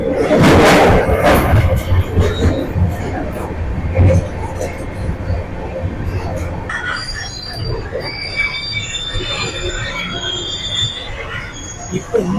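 Andaman Express passenger train slowing to a stop, heard from inside a general coach: loud, sustained wheel squeal and rumbling thumps at close range, easing into quieter rolling with high metallic screeches toward the end.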